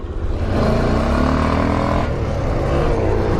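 A Mercedes car driving past close by, a steady loud engine and road roar with a slight rise in pitch, rumbling throughout the short stretch.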